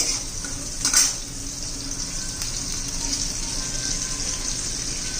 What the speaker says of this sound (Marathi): छान अशी हिरवी मिरची आणि लसूण परतून घ्यायचे